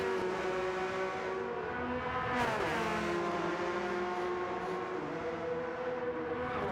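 Porsche Cup race cars at full throttle through a hilly sequence of S-bends, a loud continuous engine drone with rising and falling pitch as gears shift, one car sweeping past at close range partway through.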